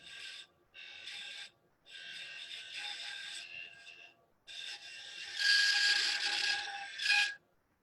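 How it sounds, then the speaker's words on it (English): A small spindle gouge reshapes a hollow wooden sphere ornament spinning on a lathe. It gives a series of light scraping, rasping bursts with brief gaps, growing louder toward the end. "So I'm going to go back to my little spindle gouge."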